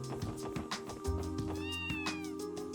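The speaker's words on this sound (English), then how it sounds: "we have the kitten with us" A kitten in a video game meows repeatedly in short, close, high-pitched cries over a quiet game-music backdrop, with no talking.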